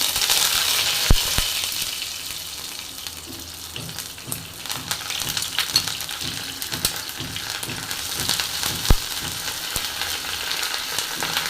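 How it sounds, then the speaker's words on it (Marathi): Crushed ginger, garlic and curry leaves fry in oil with a continuous close sizzle, broken by a few sharp clinks and stirring scrapes, and no voices. "ह्याच्यामध्ये मी अद्रक आणि लसूण चेचून घेतली ती आणि कढीपत्ता टाकून घेणार आहे"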